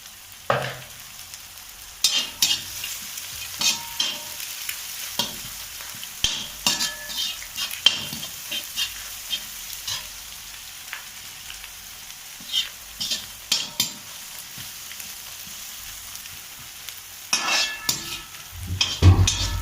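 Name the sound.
egg noodles being stir-fried in a pan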